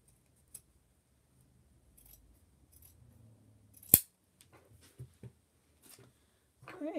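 Scissors trimming excess fabric off sewn mitten liners, one sharp close snip standing out among a few soft cuts and faint handling noises in a quiet room, with brief murmured talk nearby.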